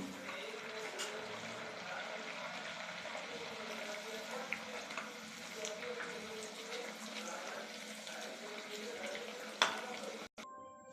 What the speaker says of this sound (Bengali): এবার এটাকে আমি তেলে ভেজে নেব। তেল দিয়ে রেখেছি, তেলটা গরম হয়ে গেছে।